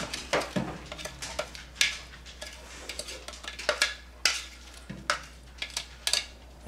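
Chopped vegetables scraped off a cutting board into a bowl: a run of sharp clattering knocks and scrapes at close range, irregular and punchy, against a low steady hum.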